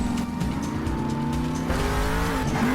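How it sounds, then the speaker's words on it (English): Grave Digger monster truck engine revving hard, a loud, continuous, rising-and-falling growl with a rough mechanical edge that carries through the whole stretch with no talking. "Hear that engine purr"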